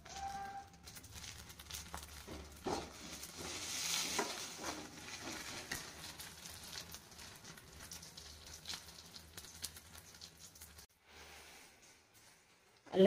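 Onions frying in a pan with salt and dried and green chillies, a soft steady sizzle with stirring scrapes and light clatter, faint and close, with no talking.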